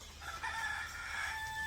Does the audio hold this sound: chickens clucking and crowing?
yes